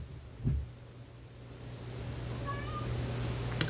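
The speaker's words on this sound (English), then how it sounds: "Sorry, was that a cat? Heard a noise." A cat makes a short noise indoors, a single brief meow-like call near the start, fairly faint over a steady low hum with no one talking.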